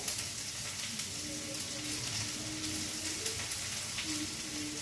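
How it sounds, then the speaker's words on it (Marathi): Finely chopped onion sizzles in a hot pan over a high flame for a Marathi-style Maggi noodle dish, giving a continuous, bright hiss with a few faint crackles and no speech. "हा एक कांदा छोटा तो एकदम बारीक कट करून घेतलेला आहे तो टाकायचा आहे गॅस फास्ट ठेवला आहे"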